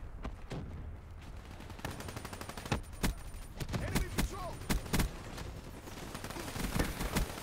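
Gunfire in Call of Duty: Black Ops 3 multiplayer: scattered single shots and quick bursts, fairly faint and uneven in rhythm, with voices in the background.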